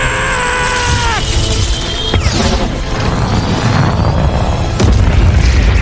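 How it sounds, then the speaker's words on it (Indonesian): Debris crashes down in a scene from a Sonic film, a loud booming collapse with rumbling impacts and crashing over dense cinematic sound, with a heavier hit near the end. "Hingga reruntuhan jatuh tepat di atas Tom."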